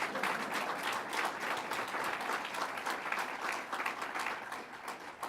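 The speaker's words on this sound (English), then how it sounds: "Let's give them a round of applause." Audience at a political rally in Rochester applauding, a dense continuous wash of clapping from many hands, steady and sustained, heard from a moderate distance.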